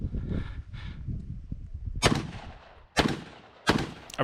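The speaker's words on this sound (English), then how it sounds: "Grabbing my rifle, there is a plastic popper that must be engaged with rifle first." Rifle shots fired at a plastic popper target during a multigun match, three sharp loud cracks spaced about a second apart after a stretch of low rumbling noise.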